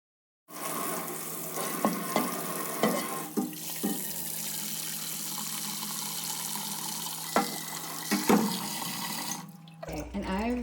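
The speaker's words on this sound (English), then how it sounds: "I've filled my pot with lukewarm water" A tap runs lukewarm water into a pot in a steady, close stream, with a few knocks and clatters on top before the flow cuts off near the end.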